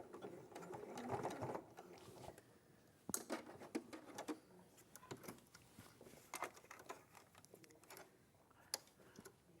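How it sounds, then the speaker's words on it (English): A sewing machine stitches down a folded, pinned jacket cuff with a quiet, fast mechanical whir and ticking. It runs in short bursts separated by pauses. "I'm going to stitch it down flat now."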